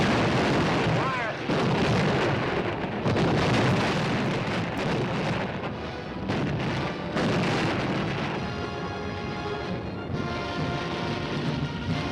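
Artillery fire in a WWII-era battle scene, a dense, continuous roar of heavy booms and rumbling blasts layered over one another, loud and sustained without pause.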